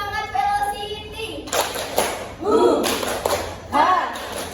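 A classroom of students in a microteaching lesson performs a rhythmic spirit clap. Sharp group claps land in short bursts with shouted chant syllables between them, and a teacher's voice can be heard near the start.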